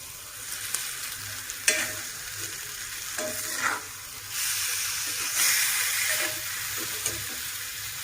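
Fish sizzles and hisses in a frying pan alongside brinjal, with a steady soft frying crackle broken by occasional stirring clinks and scrapes, no talk.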